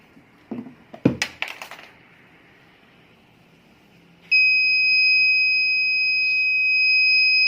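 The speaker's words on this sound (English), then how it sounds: "buzzer will turn on for 5 seconds" A few knocks and clatters, then a steady, piercing electronic buzzer tone from a vehicle sleep alert system starts and holds continuously for about five seconds.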